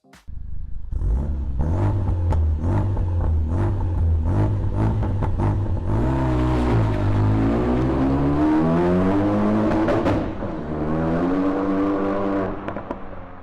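A Renault Megane RS with a 2.0-liter engine revs close up: several sharp blips of the throttle, then a long climbing rev that rises in pitch, drops back and surges again before settling.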